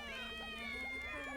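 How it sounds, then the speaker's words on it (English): Cat meows from the video game We Love Katamari repeat in quick succession over the game's steady music and sound effects, a string of short, rising and falling calls. "Why are there all these cat sounds?"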